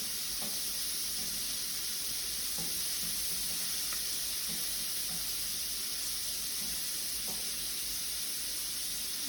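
Shrimp sizzling in a hot pan, a steady close hiss of frying with soft crackles and occasional pops running unbroken throughout, with no voices.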